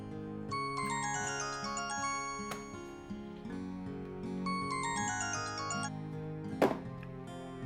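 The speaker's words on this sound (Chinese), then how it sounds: "你的手机响几次了？" A mobile phone rings repeatedly in a quiet room, its bright melodic ringtone tones stacking in short repeating phrases, followed by a sharp clatter near the end.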